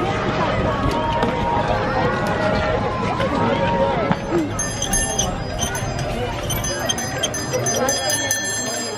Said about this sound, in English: You're ringing the bell for Santa.